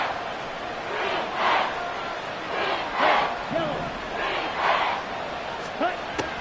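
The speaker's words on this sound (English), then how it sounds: "This crowd turning up the decibel level" A packed stadium crowd at a Seahawks football game roars loudly, swelling in repeated surges of cheering and shouts with short dips between them.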